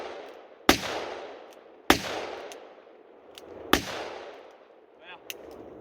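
Three sharp, loud gunshots from a handgun fired two-handed at an outdoor range, spaced about a second apart, each followed by a decaying echo, with a faint metallic clink after.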